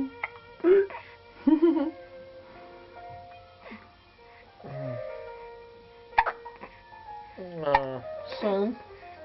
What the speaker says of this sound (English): how do we get rid of those annoying hiccups for you, eh?